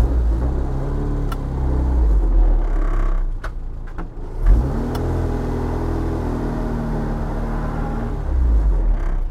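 A 1967 Austin Mini Cooper S maneuvering, its engine rumbling loud and near while the transmission whines and creaks, the revs dipping briefly and then picking up into a steady drone, with a few sharp clicks and no talking.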